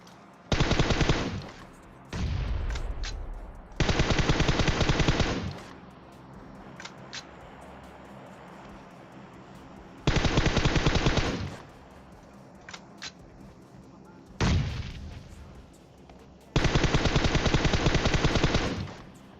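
Automatic gunfire in the PUBG video game comes in about six loud, rapid bursts of a few seconds each. Quieter gaps between bursts hold faint distant shots.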